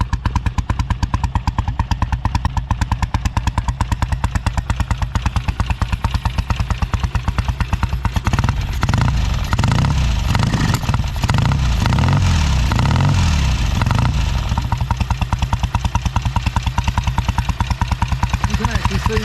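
A Royal Enfield big twin motorcycle engine runs through straight-through exhausts with no baffles, a loud, close, rapid pulsing idle that swells into a heavier, rougher rumble mid-way before settling back, with no talk.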